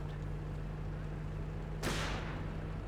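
A single sharp sniper rifle shot cracks out in a Company of Heroes 1 match, a sudden bright report with a short decaying tail over a steady low battlefield hum and faint ambient noise.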